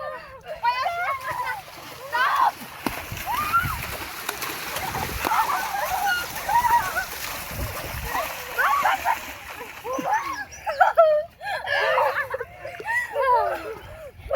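Water splashes and sloshes while people bathe outdoors in a village, with steady watery spatter throughout and excited children's voices chattering and calling over it.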